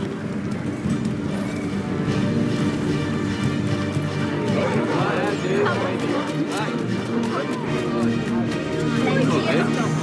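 Horses in Assassin's Creed III on a city street, hooves clip-clopping at a run with occasional whinnies over crowd murmur and talk.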